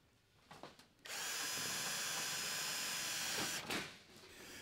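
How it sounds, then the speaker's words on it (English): Power drill driving fasteners through an LED retrofit strip into a light fixture: a quiet start, then one steady whirring burst of about two and a half seconds that tails off, close and fairly loud. "start drilling in the LED strip, working your way back the length of the strip"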